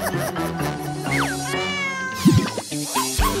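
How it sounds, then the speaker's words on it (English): A cat meows several times in quick rising and falling calls, close and clear over a busy bed of background music. "Kitty want a lick? Aw, what a nice kitty."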